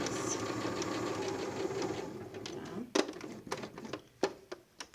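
A domestic sewing machine stitches a small unlined fabric bag with a steady, fast mechanical clatter at close range. It then slows into a few separate stitches, each a sharp tick.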